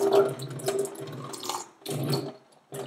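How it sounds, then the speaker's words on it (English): Water runs from a tap and swirls down a drain in a few uneven bursts, splashing and gurgling up close, with short quiet gaps between the gushes. "This water, it just goes down the drain."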